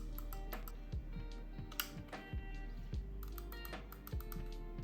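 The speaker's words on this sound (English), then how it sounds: "then we have a really short travel distance mouse-like click" Repeated short, crisp clicks from the triggers of a SCUF Envision Pro controller set to a short-travel mouse-like click, a quick irregular run of close, quiet taps over a steady low hum.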